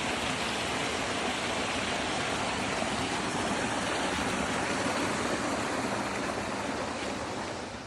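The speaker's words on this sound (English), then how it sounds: "This is the creek" Creek water in San Pedro Valley rushes steadily near a small man-made diverter, a dense, even broadband flow that holds constant throughout with no voices.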